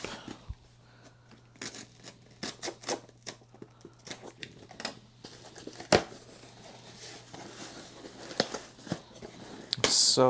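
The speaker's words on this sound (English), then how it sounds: "Just gonna go ahead here and cut open the tape." A blade slicing through packing tape on a parcel being unboxed, heard as a series of scattered crisp ticks, scratches and rips against a quiet room hum, ending in a louder crinkling tear.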